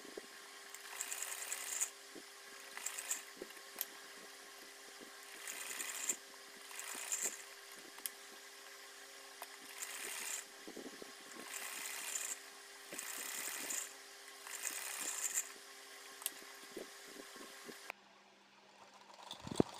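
Sewing machine stitching a lace panel onto a printed kurti, quiet repeated bursts of mechanical whirring separated by short pauses, ending in near silence.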